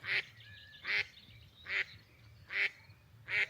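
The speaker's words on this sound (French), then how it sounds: "Regardez tous les petits canards." Five loud, nasal quacks from little ducks, evenly spaced nearly a second apart, close to the microphone over a faint low background hum.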